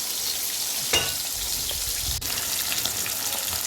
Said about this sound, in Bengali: আমার মাছ প্রায় ভাজা হয়ে এসছে।